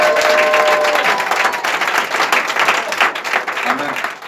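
A church congregation breaks into sustained applause and cheering, a dense wash of clapping that holds steady throughout, with voices mixed in.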